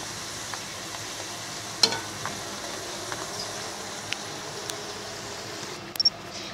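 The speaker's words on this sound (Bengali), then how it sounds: "আমি লাল লাল করে গোল্ডেন ব্রাউন করে এখন ফুসকাগুলিকে ভেজে নেব" Fuchka shells made from semolina and flour deep-frying in oil until golden brown, a steady soft sizzling hiss throughout with a few sharp clicks and taps of turning, close and without talk.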